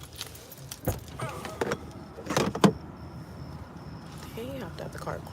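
Someone getting out of a car: sharp door clunks and rattles in quick bursts, a brief motor whine, then quieter handling noises, with a person speaking nearby.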